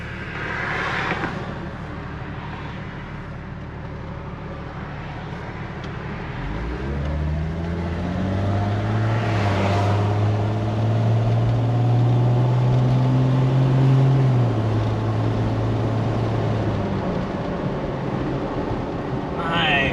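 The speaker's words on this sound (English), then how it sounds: "I never knew this Jeep was this quiet." A 1999 Jeep Wrangler drives through street traffic, its engine and road noise a steady broad rumble heard from inside the cabin, with a rising, then falling, hum as it accelerates midway through.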